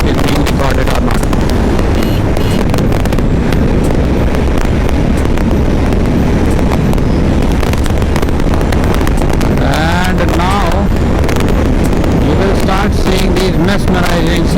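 Strong wind roars loudly into the microphone throughout a Honda CB350 motorcycle ride in heavy monsoon conditions on the way from Bangalore to Munnar, a constant buffeting rush with engine rumble beneath and a voice talking over it.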